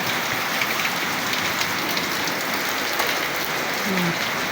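Steady rain pours onto surfaces with a dense, continuous hiss and patter that stays loud and even the whole time.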